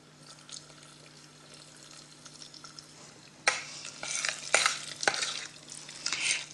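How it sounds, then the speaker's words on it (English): Syrup is stirred through sticky sweet coconut rice, quiet at first, then wet squelching scrapes and clinks of a spoon against the pan in several close bursts over the last few seconds. "Stirring it round just to make sure that that syrup covers each one of the grains of rice."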